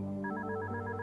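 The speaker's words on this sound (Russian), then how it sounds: "Мне Фламки звонит." A phone rings inside the FNAF Ultra Custom Night horror video game, a soft, steady electronic ringtone of sustained tonal notes, fairly quiet and heard alone.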